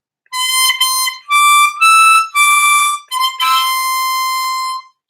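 A diatonic harmonica plays a short phrase of Ode to Joy, several sustained notes, clear and close, with brief breaths between phrases.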